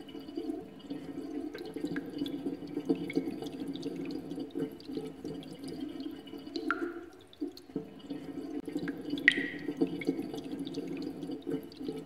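Water in a video game escape scene, a soft continuous trickle like a running tap with faint drips, steady and fairly quiet, with a couple of brief higher splashy accents.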